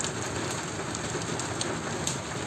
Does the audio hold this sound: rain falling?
yes